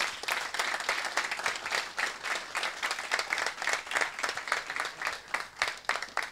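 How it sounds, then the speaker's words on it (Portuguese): A crowd claps steadily, a dense, lively round of applause that continues without pause throughout. "eu quero que batam uma grande salva de palmas para esse grande homem que aqui está"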